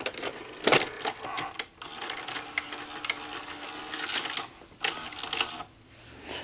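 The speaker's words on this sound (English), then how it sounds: "Let's put the cassette in and we'll see what happens." Sony SL-HF360 Betamax VCR under repair loading and threading a cassette, with close mechanical whirring, clicks and rattling shuffles of moving parts over steady hum.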